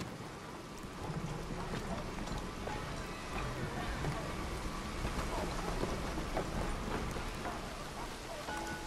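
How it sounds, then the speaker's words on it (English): Steady rain falls throughout a Red Dead Redemption game scene in New Orleans, a dense even hiss of drops on surfaces holding at a constant level for the whole stretch, with a voice speaking over it. "Miserable, this rain. I don't like this weather, not one bit."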